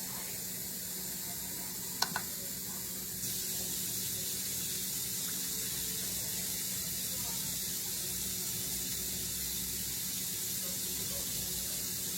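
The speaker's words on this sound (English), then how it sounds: "And then I do 380 grams of warm water." Warm water is poured into a bowl for sourdough bread dough. A brief clink comes first, then a steady, soft, hissing pour runs close by for about nine seconds.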